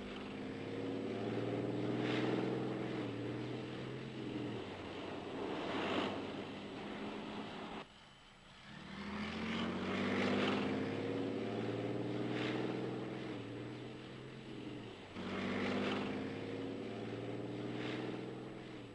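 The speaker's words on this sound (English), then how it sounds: "With a combat weight of just under 40 tons, the S-tank is also capable of traversing smoothly despite minor obstacles in its path." A Swedish Strv 103 S-tank of just under 40 tons drives past with a steady, droning engine roar that swells and dips in several long waves, loud and continuous, with no talking over it.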